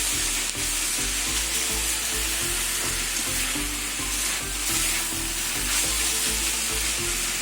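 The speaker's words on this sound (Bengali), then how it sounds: "এবার ভাজবো ঢেকে ঢেকে ভাজবো না" Vegetables for a Bengali chorchori frying uncovered in a pan, a dense, continuous close sizzle with rhythmic stirring scrapes throughout and no voices.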